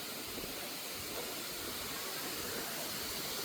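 Waterfall on a forest hiking trail, a steady broadband rush of falling water, moderately distant and unbroken throughout.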